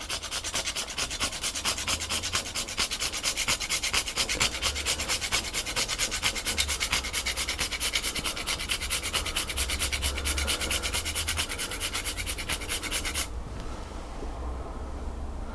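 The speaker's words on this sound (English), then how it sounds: "I'm going to just take some nutmeg and grate it over the top" Nutmeg grated over a peach and passion fruit curd tart gives a steady, close rasping scrape that repeats in quick, even strokes for about thirteen seconds and then stops abruptly.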